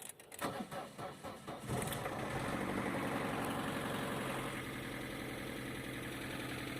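An Opel car's engine cranks with a few rhythmic turns, catches, then settles into a steady, close idle that runs evenly to the end with no one speaking.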